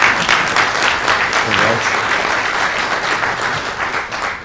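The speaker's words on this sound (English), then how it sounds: "Please give him a warm round of applause." A conference audience at an application security talk applauds steadily for several seconds, a dense wash of clapping filling the room without pause.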